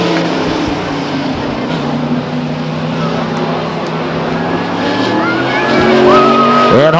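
Stock cars racing at Stockton 99 Speedway, several engines droning loudly together in a sustained roar, rising in pitch and intensity near the end as cars accelerate past, with faint tire noise.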